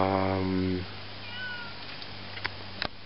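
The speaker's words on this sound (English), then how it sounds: "may interrupt this video to talk to that cat" A kitten gives a drawn-out meow near the start, followed by a quieter mew and a couple of faint clicks.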